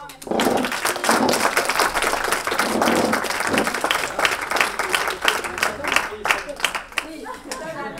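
A live audience applauds a theatre troupe after their performance, many hands clapping loudly and steadily, then thinning into more separate claps toward the end, with some voices mixed in.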